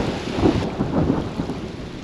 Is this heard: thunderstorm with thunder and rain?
yes